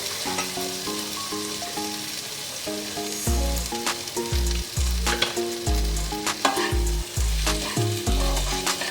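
Taro pieces drop into hot oil with cooked-down spices, setting off a loud, steady sizzle and frying crackle, with repeated scraping stirs and clinks from a utensil against the pan, close up and with no talking.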